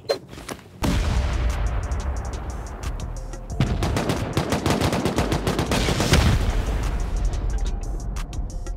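Dense automatic gunfire from a turret in an online survival game rattles almost without pause for about eight seconds, loud and close, with heavier bursts and impacts layered through it and no clear speech.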